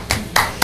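Three sharp broadband claps from someone at a town council meeting, evenly spaced and fairly close, in a quiet room.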